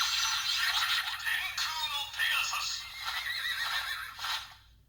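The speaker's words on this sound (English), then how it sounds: "Got the wings flapping right there." Electronic sound effect from a Kamen Rider Saber Pegasus Wonder Ride Book toy speaker, a loud continuous burst of whooshing wing flaps with a horse whinny, running steadily for about five seconds before cutting off.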